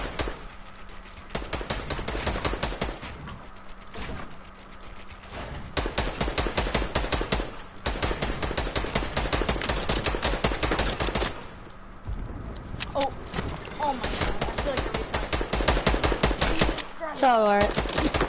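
Rapid automatic gunfire in a shooting video game, long dense bursts of shots with brief pauses, loud and close throughout.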